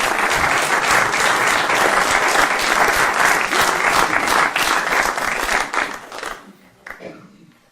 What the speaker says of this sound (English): You get a nice round of applause.